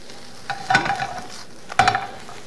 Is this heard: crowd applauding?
no